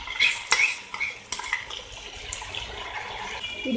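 A spoon stirring masala in a small cooking pan while making Tamil Nadu-style egg masala fry, with scraping clinks of metal on metal and a soft wet, sizzling background.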